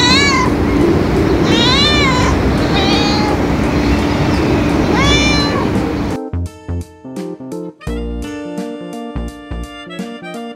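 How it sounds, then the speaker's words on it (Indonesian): A cat meows several times in drawn-out, rising and falling calls over a noisy rumbling background, followed by a stretch of music. "Ini adalah kucing."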